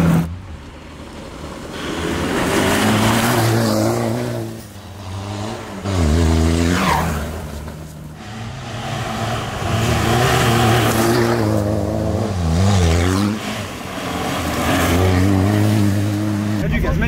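Peugeot 205 HDI fitted with an Iveco injection pump, its diesel engine revving hard again and again with rising and falling pitch, loud and close, while voices shout over it.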